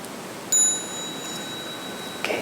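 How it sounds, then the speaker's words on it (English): A small meditation bell struck once during a children's gathering at a dharma talk, giving a clear bright ding with a long ringing tail in a quiet room, followed by a soft second touch near the end. "at the small sound of the bell, we'll stand up"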